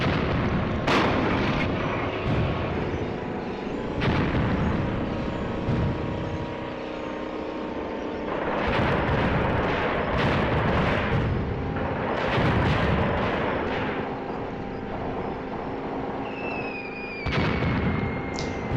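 Artillery fire in the war game Graviteam Tactics: Operation Victory rumbles through a string of deep, distant booms and blasts over a constant low din, with heavier clusters of detonations spaced across the stretch.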